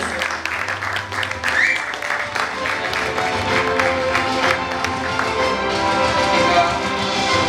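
Applause for the moderator at an Asian Pacific business forum panel on ESG and stakeholder value, broad steady clapping from a seated audience, loud and sustained, with a brief whistle early on.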